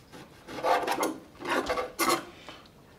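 A knife cuts beef into pieces for a beef pizza, giving three close, rough rasping strokes in quick succession with no talking.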